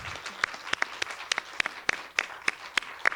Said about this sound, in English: I'll ask you to give a round of applause to our fabulous panel